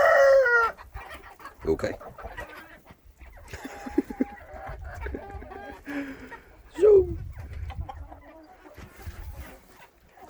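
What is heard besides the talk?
chickens clucking in a coop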